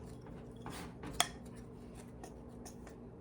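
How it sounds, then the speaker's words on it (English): Half a cup of packed brown sugar gets mixed with all-purpose flour in a bowl for a zucchini crumb cake, producing faint scraping and light clinks of a utensil, with one sharper tap against the bowl. "I'm going to add a half a cup of packed brown sugar, and just mix that together."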